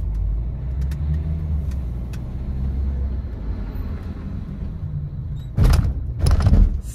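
A Renault Fluence 1.5 dCi 110 PS diesel automatic accelerating from inside the cabin, a steady low engine drone with road noise that swells louder toward the end, heard alone without talking.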